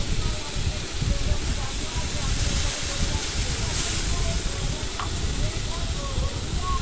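Onion with ground ginger and chili paste sizzles in a very hot wok, a steady loud hiss and crackle that runs unbroken and close throughout.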